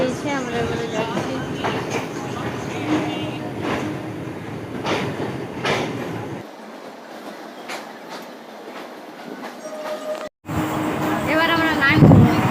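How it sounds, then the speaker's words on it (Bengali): Interior of an empty moving train, with steady rumbling carriage noise and rattling throughout, a brief quieter stretch partway through and a sharp cut near the end, while people talk over it. "ট্রেন ছেড়ে দিয়েছে, আমরা এবারে যাচ্ছি।"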